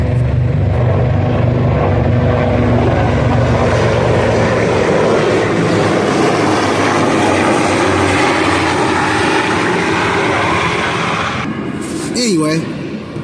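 Propeller airplanes drone overhead during an outdoor car oil change, a steady loud engine roar that swells and holds for most of the stretch, then fades as someone speaks near the end.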